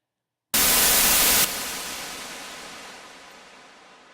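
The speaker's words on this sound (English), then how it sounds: "So now we've got some noise." Noise oscillator of the Massive synthesizer producing white noise, which bursts in suddenly and loud after a moment of silence, drops to a lower level after about a second, then fades slowly as a steady hiss.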